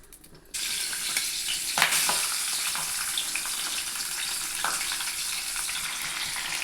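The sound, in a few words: mustard and fenugreek seeds frying in oil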